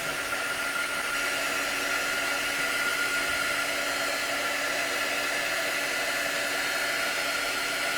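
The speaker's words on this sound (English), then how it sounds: "gonna hit it with the dryer just a tad" A hair dryer blows on metallic paste drying on a patriotic door sign, a steady, loud, unbroken whooshing hiss lasting throughout with no talking.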